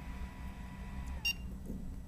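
A vintage NEC Versa VXi laptop gives a single short, bright electronic beep, faint and brief over a steady low hum and a soft whining tone.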